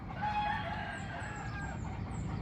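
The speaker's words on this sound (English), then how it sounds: "Roosters." Roosters crow on the outskirts of a Philippine city, their calls rising and overlapping at moderate distance over a steady low background rumble, with high chirps flitting through near the end.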